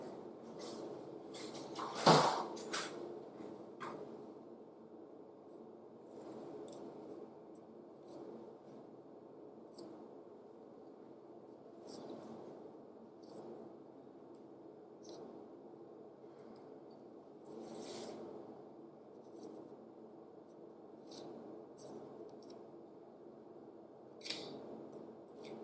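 Scissors or a knife trim the edges of rolled pastry in a quiet kitchen, with scattered faint snips and scraping touches, one sharper cut near the start.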